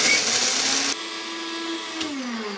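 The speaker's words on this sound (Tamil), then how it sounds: "இப்போது இதை வந்து நம்ம பிளெண்டரில் போட்டு நல்லா அரைச்சி பவுடர் பண்ணி எடுத்துக்கலாம்." A kitchen blender grinds dried tomatoes into powder with a loud, steady motor whine that drops in pitch about a third of the way through, then shifts again near the end. No talking.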